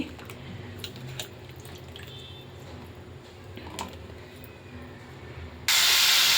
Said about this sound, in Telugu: ప్యాన్ పెట్టుకుని నేను టూ స్పూన్స్ ఆయిల్ వేసుకున్నాను ఇప్పుడు ఇందులో ఫస్ట్ మన వంకాయ ముక్కలు అయితే ఫ్రై చేసుకుందాము